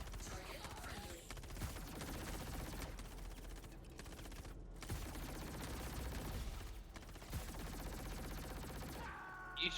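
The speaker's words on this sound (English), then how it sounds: "I'm shooting him with the bike" Sustained automatic fire from a bike-mounted gun in Star Citizen, a dense rattling stream of shots with brief gaps, heard quietly at a distance in the mix.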